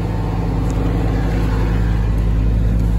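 A car engine with its choke not yet set right runs loud and steady up close, a constant low rumble with a faint whine above it while the gas is pressed, no voices.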